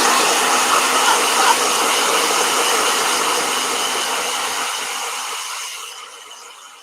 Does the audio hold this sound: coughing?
no